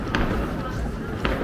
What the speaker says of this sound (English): Lots of fireworks going off.